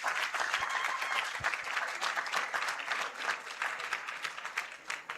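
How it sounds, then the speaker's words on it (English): Audience applause for a presenter at a university business challenge event, a dense sustained burst of many hands clapping that carries on for several seconds before thinning out near the end. "She has to be give her a hand of a clap"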